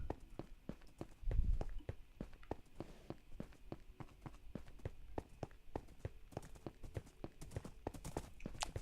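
Horse hooves clip-clopping in the Minecraft video game, a fast steady run of sharp hoof clicks with a soft thump near the start, moderately loud with faint room sound between steps.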